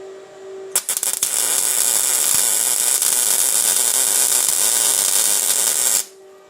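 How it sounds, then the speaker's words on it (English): A quick stitch weld laid onto metal, opening with a few sputtering starts, then a loud continuous crackling buzz for about five seconds before cutting off abruptly, with a faint hum before and after and no talking. "I am going to throw a little weld on there."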